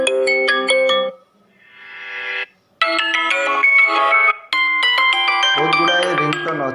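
Melodic mobile phone ringtones are previewed one after another, loud and close, playing bright electronic tunes with brief silent gaps between them.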